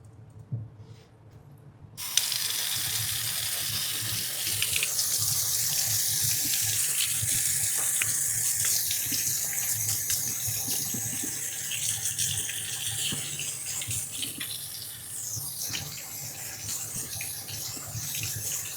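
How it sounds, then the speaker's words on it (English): Warm water running from a kitchen tap into a sink, starting abruptly after a quiet moment and then pouring steadily and close at hand. "we're going to run the warm water again."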